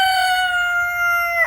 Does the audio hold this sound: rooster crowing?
yes